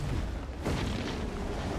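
An airstrike explosion in a video game: a sudden heavy boom that opens into a sustained, rumbling roar filling the rest of the moment, loud and close with no voices.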